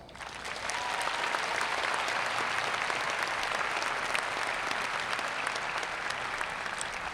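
Sustained applause from a large audience at a university honors convocation, greeting the platform party; steady, dense clapping fills the hall throughout without a break.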